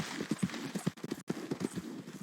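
Horse hooves clip-clop in a steady, close, moderately loud rhythm on a video game trail, a few hoofbeats per second, with no talking over them.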